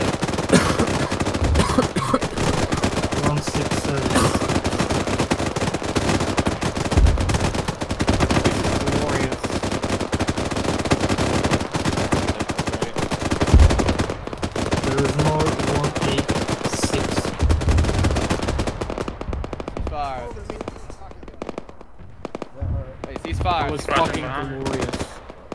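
Sustained automatic gunfire from a squad in a desert military shooter game, dense bursts of machine-gun fire and rapid shots filling the scene, loud and close, easing off near the end with brief speech.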